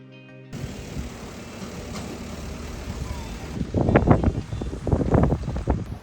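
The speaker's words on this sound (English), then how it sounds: "It's a little bit windy this morning" Morning wind buffets the microphone outdoors in La Fortuna, Costa Rica, a continuous rushing roar that swells and falls, with a person talking over it in the second half.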